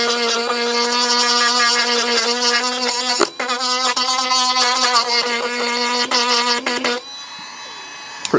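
A Parkside cordless mini rotary tool, powered from a belt-worn battery pack, runs at about half speed with a steady high-pitched whine, briefly dipping twice and then winding down toward the end, loud and close.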